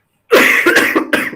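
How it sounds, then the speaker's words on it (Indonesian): A child coughs loudly and close by in a quiet room: a quick run of three or four harsh, hacking coughs in about a second. "anak lagi batuk ini"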